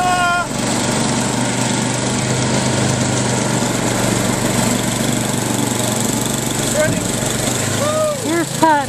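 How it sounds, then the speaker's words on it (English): A snowblower clears snow with a loud, steady, high-revving small-engine drone close by, and faint voices and brief whistly chirps rise near the end. "Here's Pat making really good use of the snowblower instead of shoveling it by hand."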